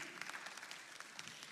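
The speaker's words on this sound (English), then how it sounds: "It's okay to clap for that." Congregation at a church service clapping, a brief, fairly quiet patter of applause from many hands throughout.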